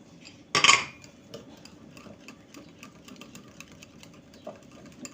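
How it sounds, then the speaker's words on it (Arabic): A spoon scrapes and clinks against a bowl while stirring a yogurt salad with garlic cloves and mint, one sharp clatter near the start followed by softer, scattered taps, close and fairly quiet. "وهنقلبهم برضو مع بعض كويس"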